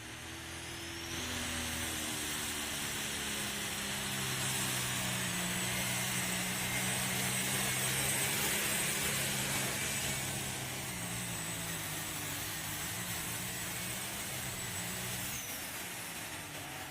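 A pulling tractor's engine roars at a tractor pull, a loud, sustained drone with shifting pitch that swells and eases over several seconds, heard from a distance without talk.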